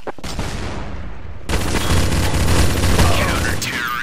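A grenade blast and gunfire from the game Counter-Strike: Source, a loud, close and dense burst of explosive noise that swells midway and rings on for a few seconds.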